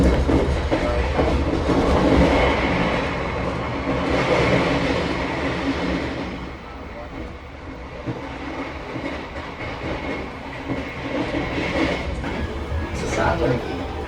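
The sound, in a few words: KA Argo Wilis passenger train running at high speed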